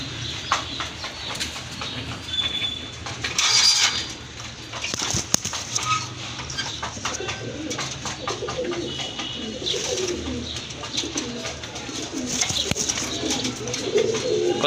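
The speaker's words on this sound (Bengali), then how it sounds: "এই যে দেখেন মাশাল্লাহ দেখার মতো একটা কবুতর অস্থির টোটালি" Pigeons coo in repeated soft rounds at a bird seller's loft, with occasional wing flaps and background bustle throughout.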